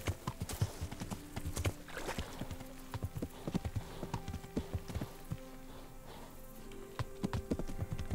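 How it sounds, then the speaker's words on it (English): Horse hooves clop in an irregular rhythm of sharp close impacts while riding in the medieval video game Kingdom Come: Deliverance, steady over eight seconds, with a faint neigh and light clicking mixed in. "gonna slow down a bit, just so the horse can recover its stamina."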